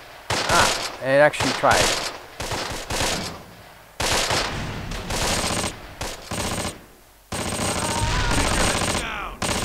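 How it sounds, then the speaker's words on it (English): Bursts of gunfire from the Close Combat Wacht Am Rhein WWII game, loud rapid rattling volleys interrupted by gaps, with someone talking over and between the shots. "Now, hopefully, this gun will have another pop shot."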